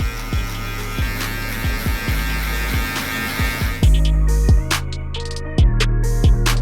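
An electric hair clipper buzzes steadily and close while cutting a drop fade, its hum shifting in tone partway through as the blade scoops out through the hair. No one speaks.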